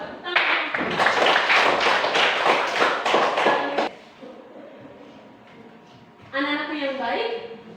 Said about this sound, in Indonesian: Baik, terima kasih untuk kelompok 4. Tepuk tangan.